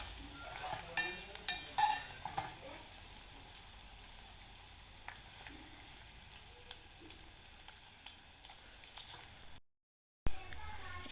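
Homemade hair oil simmers in a pan on a stove with a soft, constant sizzle, a few sharp spoon clinks early on, and a brief drop to silence near the end.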